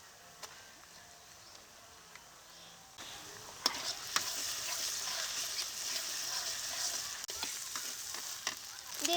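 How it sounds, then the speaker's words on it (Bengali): Ground spice paste with salt and turmeric frying in a pan over fried onion for a desi chicken curry: a soft, steady close sizzle that grows louder partway through, with occasional stirring scrapes and clicks. "মশলাটাকে এখন ভালো করে কষিয়ে নেব"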